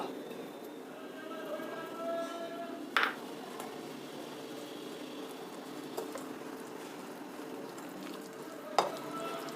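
A spoon stirs rava idli batter mixed with thick curd and coriander leaves, producing faint, steady wet churning with a couple of sharp knocks against the bowl.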